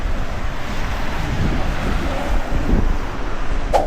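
Cold, steady wind gusting by the sea on the east side of Jeju Island, a constant broad roar buffeting the microphone, with surf mixed in and no voices.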